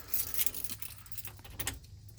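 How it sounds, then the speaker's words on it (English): Three sets of bus keys jangle and clink in a pocket in quick metallic bursts, close and fairly loud, with no voices. "I got 3 sets of bus keys in my pocket"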